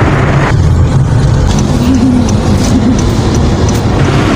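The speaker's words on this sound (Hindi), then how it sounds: "सुनने की वजह से ट्रैफिक बहुत है यहाँ पे।" Steady street traffic near the PAF Museum in Karachi, a continuous loud rumble of passing cars and engines with no pauses, close by and filling the whole stretch.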